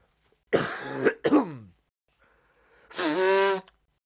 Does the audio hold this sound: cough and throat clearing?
yes